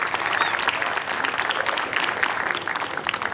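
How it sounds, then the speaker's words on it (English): Outdoor crowd applause at the grand reopening ceremony of Veterans Memorial Levee Park on the Riverwalk, a dense, steady patter of many hands clapping at moderate volume, sustained evenly with no talk over it. "Give them a nice round of applause."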